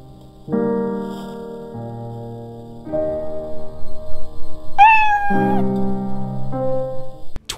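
A cartoonish cat meows several times in the survival video game Sheltered, each cry clear and prominent over steady tonal game sounds, with one higher wailing note midway.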